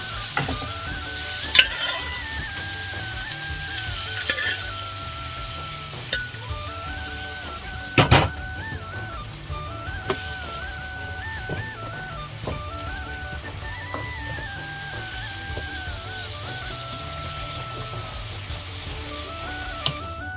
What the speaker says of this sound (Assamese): এতিয়া বইল কৰি লোৱা বন্ধাকবি আৰু বিলাহী মই এইদৰে তেলত দি দিছোঁ।